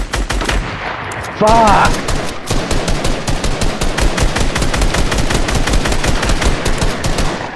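Rapid automatic gunfire rattles continuously in a battle-royale arena video game as shots are fired at a wall, loud and close with brief pauses, while a player shouts once.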